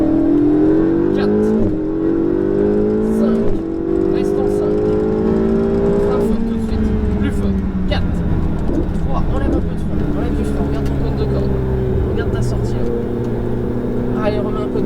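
A Ferrari 488 GTB engine pulls hard on a circuit at Fontenay-le-Comte during a driving course, heard from inside the car as a loud, continuous rising roar with shifting revs, while an instructor talks over it.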